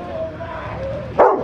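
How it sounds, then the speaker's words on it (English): A single loud dog bark bursts out near the end over a steady background hum, close to the recorder. "What a fucking dog."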